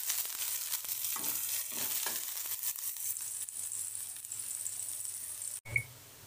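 Chopped onion frying in a pan for a tomato, carrot and beet soup, a steady soft sizzle with faint stirring scrapes, ending in a brief clunk.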